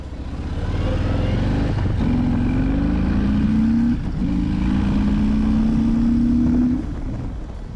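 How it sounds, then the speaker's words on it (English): A 2020 Harley-Davidson Low Rider S (FXLRS) engine idles with a steady, loud low rumble, its pitch drifting slightly over several seconds with no talking. "People say that the engine at idle sounds like a sewing machine."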